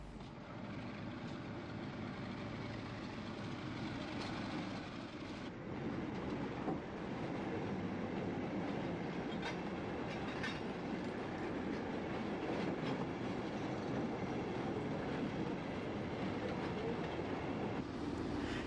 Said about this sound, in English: The exhaust of the Crosley diesel engine gives, as it often did, a very good impersonation of a steam locomotive.